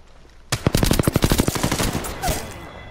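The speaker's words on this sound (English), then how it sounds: "Oh, I'm getting shot at by a lifeline." Rapid automatic gunfire from an Apex Legends firefight, with an enemy Lifeline shooting; a burst of close, loud shots in quick rhythm begins suddenly after a near-silent start, then trails into scattered, fainter fire.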